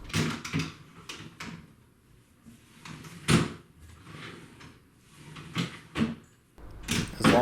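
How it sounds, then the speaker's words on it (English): Drawers being pushed into a newly assembled mixed-material four-drawer dresser: a series of close wooden slides and knocks, with several sharper thumps as each drawer seats, spaced irregularly with quiet gaps between them. "these drawers should slide in quite easily"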